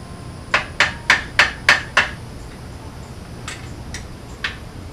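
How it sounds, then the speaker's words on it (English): A hammer strikes a stuck 17 mm bolt on a Suzuki Boulevard C50 motorcycle: six sharp metallic blows in quick, even rhythm, then three lighter, spaced taps, close and clear with no talk. "I'm going to try freeing it with a hammer here."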